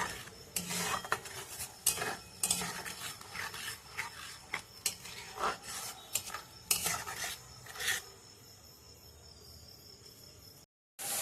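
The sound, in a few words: stirring chicken masala in a cooking pan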